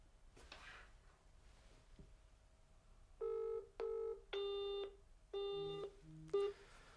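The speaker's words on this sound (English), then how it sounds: "I get an engaged tone." Engaged tone from a G-Mee Connect Pro smartphone after dialing a blocked number: a quiet room, then a series of evenly spaced electronic beeps, each lasting about half a second.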